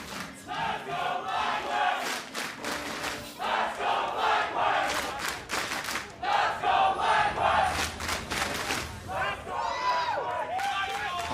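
A large crowd of esports fans roars and shouts in rolling waves of cheering, loud and sustained, with surges and brief dips throughout, at an LCS semifinal League of Legends match.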